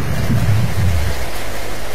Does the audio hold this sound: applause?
no